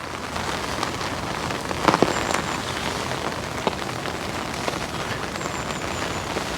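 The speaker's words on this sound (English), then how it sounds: "it's raining so much all the time, it just won't let up" Heavy rain pours steadily onto a lake at a Suffolk water park during a bream fishing session, a dense unbroken hiss of drops with a few sharper splashes and knocks close by.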